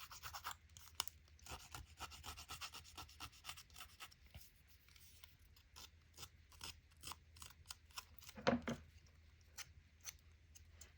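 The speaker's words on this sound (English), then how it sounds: "they're more efficient than just the blade of your scissors" Repeated crisp snips and scraping strokes of scissors cutting, irregular but steady, close up and fairly quiet, with no talking.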